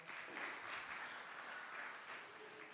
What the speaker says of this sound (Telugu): చప్పట్లు కొడదామా?